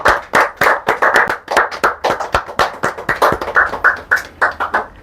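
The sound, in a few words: people clapping for a giveaway winner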